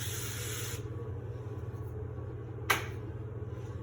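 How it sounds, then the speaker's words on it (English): Avocado oil cooking spray hisses onto a baking pan for biscuits in a short burst at the start, then a single brief spritz later, over a steady low hum with no one talking. "spray it over the sink or over the trash so you don't get a slippery floor"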